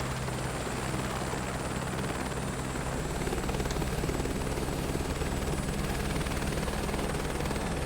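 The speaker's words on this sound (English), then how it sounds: "Let's aim our helicopter for it." A helicopter flies over the Lahaul and Spiti loop, its rotor and engine making a loud, steady, continuous roar close up throughout, with no talk.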